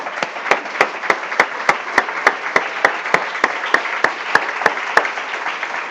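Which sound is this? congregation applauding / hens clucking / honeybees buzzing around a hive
congregation applauding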